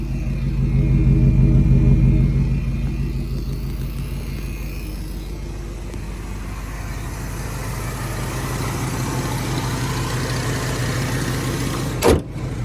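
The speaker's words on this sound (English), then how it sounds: "Exhaust sounds great." A 1983 Oldsmobile Hurst engine idles with a deep, steady exhaust rumble close by, swelling slightly at the start, with a short sharp click near the end.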